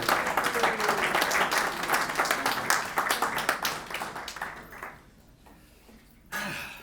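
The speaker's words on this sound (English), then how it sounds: "give him a round of applause" Group of old scouts at a March 2022 reunion applauding a speaker, a dense burst of clapping that thins and fades out, followed by a brief clink and a short noise at the end.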